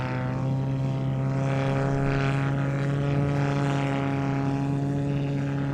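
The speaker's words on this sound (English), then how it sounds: "now opening the throttle to power away" A propeller aircraft at the Midlands Air Festival holds a loud, steady droning engine note that rises slightly as the throttle opens, with a constant buzzing tone and no voices.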